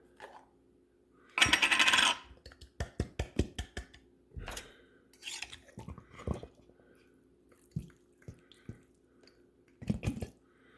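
Cherry pie filling being spooned into a dish during Thanksgiving baking prep: a loud wet slop followed by a run of sharp spoon clicks, taps and plops, close up with no talking.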